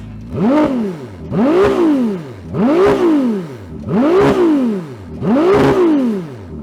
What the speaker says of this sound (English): rev it all the way to the red line when you're stationary and enjoy the sound of this glorious V6